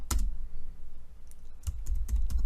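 Keys clatter on a computer keyboard in two quick close bursts of typing separated by a short pause, crisp and clicky with no voice over them.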